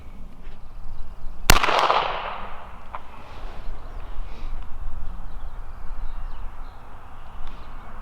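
A single sharp gunshot from a Henry Model X lever-action rifle chambered in .38 Special/.357 Magnum, firing 158-grain ammunition, cracks loudly with a brief echoing decay, followed by quiet outdoor ambience.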